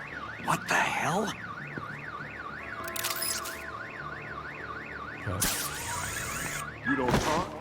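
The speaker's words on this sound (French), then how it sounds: "My bat stunner would set off the car alarm." A car alarm in the Batman: The Enemy Within video game wails in a steady rising-and-falling siren cycle, loud and continuous, with sharp bursts of other game sounds cutting in.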